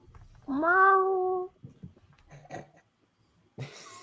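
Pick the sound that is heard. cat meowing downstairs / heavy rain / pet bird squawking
cat meowing downstairs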